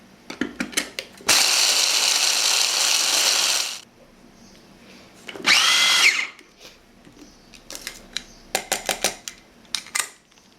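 Almonds are blitzed in an electric food chopper during amaretti preparation, in two loud whirring bursts of a few seconds each, separated and followed by light clicks and taps.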